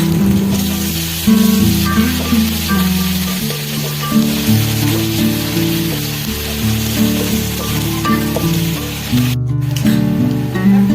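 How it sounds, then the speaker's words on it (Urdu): Ginger garlic paste hitting hot oil with browned onions sizzles loudly and continuously in a pan, a dense steady hiss with faint music running beneath. "ادرک لہسن کا پیسٹ ڈالیں گے۔"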